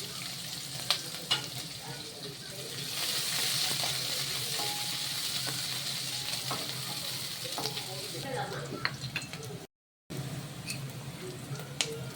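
Onions and green chillies fry with whole spices and cumin in hot oil for goat lung fry, a steady close sizzle with scattered crackles and pops, one brief dropout near the end.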